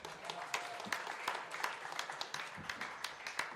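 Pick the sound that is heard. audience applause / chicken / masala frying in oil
audience applause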